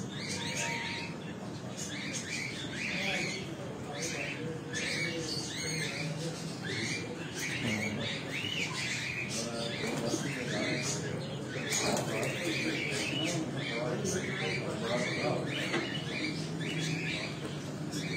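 Jailer breed champion pigeons in a breeder's loft coo and shuffle, with wings flapping in brief bursts and soft scratchy movement, while someone talks throughout over the birds.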